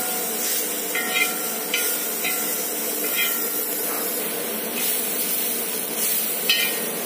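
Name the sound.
beef being dry-fried in a pan without oil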